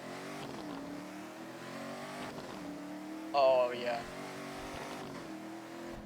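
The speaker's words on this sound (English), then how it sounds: "I'm so glad the cars in Driving Empire is starting to sound really good now" Car engines revving in the Roblox game Driving Empire: a steady mid-pitched engine drone that swells and shifts in pitch as it accelerates, with a brief exclamation from a man partway through.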